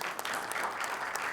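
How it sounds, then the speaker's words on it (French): An audience at a film club screening applauds in a steady, moderately loud wash of many hands clapping at once, with no pauses. "Ah oui, vous pouvez applaudir."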